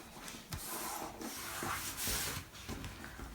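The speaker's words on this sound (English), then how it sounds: "Give it a burnish, make sure it's stuck down." Up close, firm rubbing strokes drag back and forth over paper in a steady scratchy rhythm.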